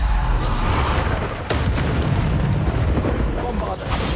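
Bombarda explosion spells going off in the Hogwarts Legacy video game, a loud continuous roar of booming blasts and rumbling debris filling the whole span without pause.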